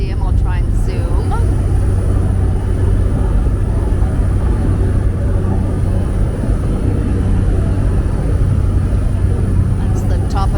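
Steady, loud engine and propeller drone fills the cabin of a small 14-seater tour plane in flight over Milford Sound, New Zealand, a constant roar with a faint voice talking over it.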